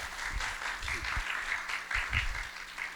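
An audience at a church lecture applauds to welcome a speaker: a fairly faint, diffuse patter of many hands with some soft low voices mixed in.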